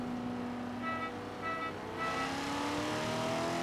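A twin-turbo McLaren race car in Forza Horizon 3 drones steadily at full throttle, its engine pitch climbing slowly through a gear with a shift partway through, loud and unbroken.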